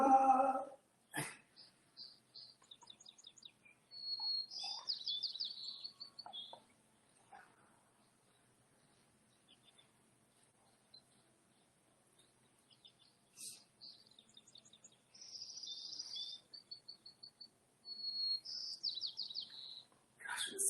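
Birds chirp outdoors during a live stretching session, with faint high tweets and short trills coming in scattered bursts, separated by quiet gaps and heard alone without talk.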